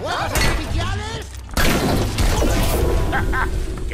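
Fireworks in the video game Overwatch burst with sharp crackling booms and a sudden crash midway, following a voice at the start and set against a dense game soundscape.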